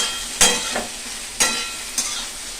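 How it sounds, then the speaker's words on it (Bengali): Spices sautéing for a curry in a hot pan give a steady oily sizzle, broken by three sharp scraping stirs spread across the moment, close up with no voices. "একটু কষাবো ভালো করে"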